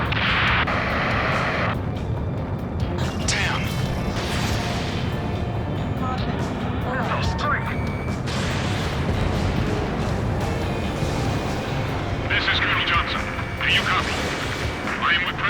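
Rocket explosions and heavy gunfire boom through an Ace Combat 7 battle, with repeated loud blasts and rumbling bursts layered over continuous combat noise while voices talk over the action.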